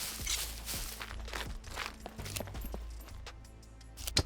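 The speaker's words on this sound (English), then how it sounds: "Thought I heard additional footsteps there." Several footsteps in the survival game SCUM, near and faint, set against a low steady ambient hum, with a sharper crunch of a step near the end.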